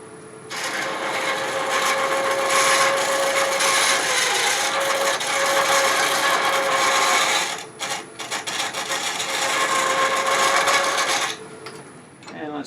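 A walnut box being hollowed on a woodturning lathe gives a loud, continuous scraping rasp of the tool against spinning wood, with a short break and a steady machine whine underneath.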